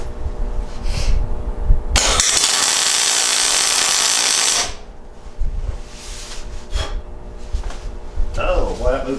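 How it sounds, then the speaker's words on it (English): A spot weld on a portable steel press gives a loud, harsh buzzing crackle lasting about three seconds, set between softer clanks and handling sounds; someone speaks around it. "See if I can get this spot weld in place."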